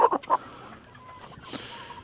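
Chickens and a rooster clucking in a barnyard, a few short close clucks at the start, then quieter scattered calls and a brief cluck near the end.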